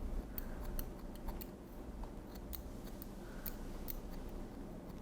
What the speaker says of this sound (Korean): 가위를 이용해서 끝선은 조금 더 얇아지고 짧아질 수 있게 의도적으로 선을 만들어 주셔야 돼요.